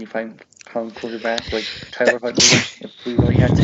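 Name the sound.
sneeze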